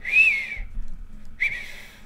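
Someone whistles two short western-style melodic phrases with a pause between them, close and clear, with no talking.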